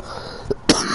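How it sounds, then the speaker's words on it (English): One person gives a short cough of two quick bursts over steady background noise. "Watch out, I'm about to cough."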